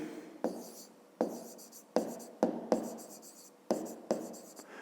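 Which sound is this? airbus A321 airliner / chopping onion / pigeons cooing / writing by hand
writing by hand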